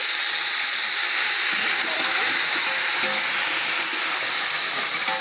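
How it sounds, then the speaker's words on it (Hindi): Water poured into a cooking pot of lightly browned onions for a village-style mutton pulao, a steady, loud rushing hiss that runs unbroken throughout with no pauses. "इसमें मैं पानी डाल दूँगी।"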